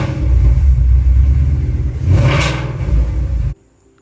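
A 2011–2014 Ford Mustang engine revs with the exhaust opened up, a loud, steady low rumble that swells into one rising rev near the middle and then cuts off abruptly.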